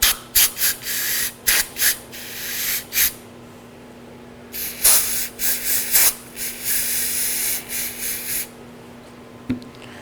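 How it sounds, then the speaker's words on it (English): Short hissing bursts of brake cleaner spray, several quick blasts followed by longer sustained sprays into a Chevrolet Equinox front brake caliper's slider pin holes, close up with pauses between them. "Now I'm going to get some brake cleaner spray inside where the slider pins went."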